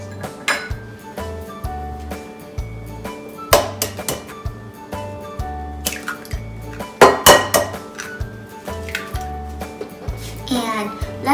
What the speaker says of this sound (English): Let's crack some eggs.